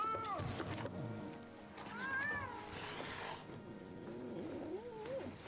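Several meows from a cat in The Hunger Games: Mockingjay Part 1, moderately close, with some rising and falling calls and a hissing burst in the middle over a quiet movie soundtrack.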